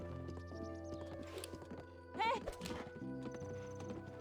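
A horse ridden in the video game Zelda Breath of the Wild clip-clops along with rhythmic hoofbeats, then gives a short whinny near the middle, under a sparse game soundtrack and someone talking.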